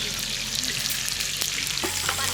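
A piece of large Katla fish fries in hot oil, producing a loud, continuous close sizzle with crackles and the occasional clink of a utensil.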